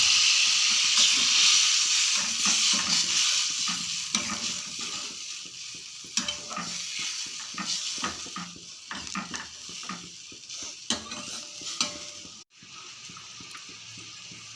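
Water poured into frying spice masala in a pan before adding fish, producing a loud hissing burst of steam that settles into a bubbling simmer, with occasional stirring knocks and scrapes.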